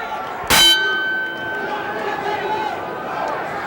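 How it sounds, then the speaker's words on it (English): A boxing bell at Bally's in Reno clangs once, sharp and loud, to start the second round of a heavyweight fight. A long metallic ring decays under an arena crowd and a commentator talking. "The bell rings and away we go in the second round"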